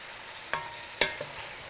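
Carrots, potatoes and rutabaga hit hot oil in a pan, giving a steady light sizzle with a couple of brief soft knocks of vegetables landing.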